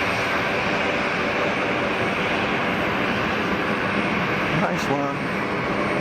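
An Airbus A220 jet roars steadily as it takes off from the full length of the runway at Geneva Airport, a broad engine rumble close and loud, with someone briefly speaking over it.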